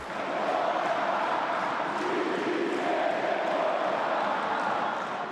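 Flamengo supporters in a football stadium send up a broad, sustained roar of booing and jeering, a continuous distant mass of voices.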